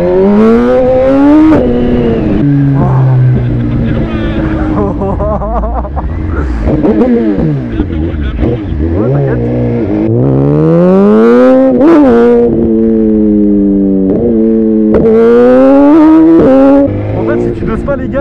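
A 2020 Suzuki GSX-R 1000 R motorcycle with a remapped 212 hp engine revs hard under throttle, its loud engine note climbing and dropping through repeated sweeps for the whole stretch, close up and continuous.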